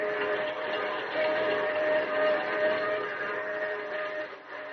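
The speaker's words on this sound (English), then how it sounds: "As the train roars into the night" A train roars through the night as a radio drama sound effect, a steady, dense rumble with a sustained whistle-like tone running through it, loud and continuous with no voices.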